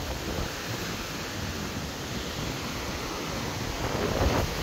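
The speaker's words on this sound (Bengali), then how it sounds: "আজকে প্রচুর বাতাসটা মনে হচ্ছে যে একদম সাগরের বাতাস" Strong wind like sea wind along a road, a steady broadband roar buffeting the microphone, growing slightly louder toward the end, no voices.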